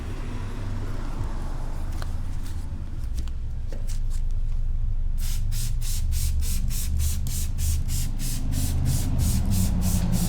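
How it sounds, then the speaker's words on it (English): A P&S Brake Buster aerosol can hisses as it sprays onto a car wheel, a soft rubbing noise at first and then a steady run of short rhythmic spray bursts, close and continuous. "I'm going to spray it on there, and then we'll see what it looks like."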